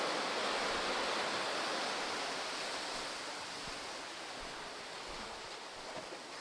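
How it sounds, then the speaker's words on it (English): Ocean waves washing through a sea cave at a beach, a dense, continuous roaring surge of surf that stays loud throughout and eases slightly toward the end. "We're watching the waves wash through."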